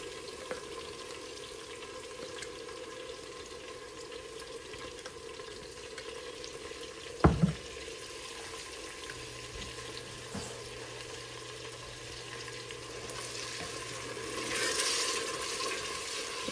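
A blended paste of onion, ginger, garlic and tomato fries in a pan with a soft, steady sizzle, fairly quiet throughout, broken by a single sharp clink of a utensil midway.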